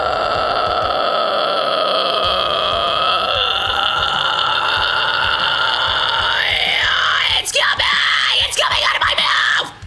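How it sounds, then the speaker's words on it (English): A loud, sustained fry scream performed as a vocal technique, a raw gritty roar held continuously at full volume with shifting pitch and harsh distortion throughout. "even though I'm screaming at the top of my lungs, it doesn't hurt"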